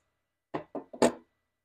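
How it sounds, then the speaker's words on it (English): 9mm cartridges being pushed out of a Taurus G2C pistol magazine, three or four quick close metallic clicks in a short burst amid otherwise silence. "I'm going to take 9mm out of my G2C mag right here."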